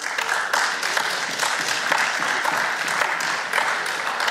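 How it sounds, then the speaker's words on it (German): A hall audience at a Green Party political speech in Bavaria breaks into sustained, dense applause, loud and even throughout with no voice over it. "Applaus"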